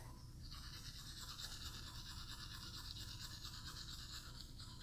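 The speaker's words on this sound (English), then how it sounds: "Brush front teeth." A child's teeth being brushed with a toothbrush, a quiet, close, rapid scrubbing that repeats in short even strokes without pause.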